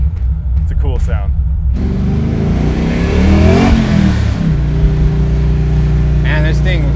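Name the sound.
supercharged car engine whine accelerating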